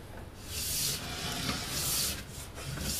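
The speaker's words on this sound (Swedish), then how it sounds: "nu har pulver svalnat och nu ska vi borsta ur det" A brush scrubs cooled powder wax out of a ski base in long, steady back-and-forth strokes, a close, loud bristly rasp with no talking.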